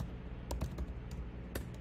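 A short, quiet flurry of computer keyboard keystrokes enters a URL, a handful of close clicks in a quick uneven burst over a low room hum.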